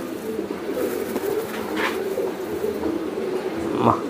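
A racing pigeon coos softly close by, low repeated murmuring calls with a couple of brief higher chirps, over a faint room background.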